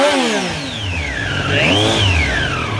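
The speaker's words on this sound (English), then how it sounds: "check out this tachometer as we rip across the RPM range real quick" A 2018 Triumph Street Triple RS 765 motorcycle engine revs quickly up and back down across its range, one loud, close, rising-then-falling rev sweep alone.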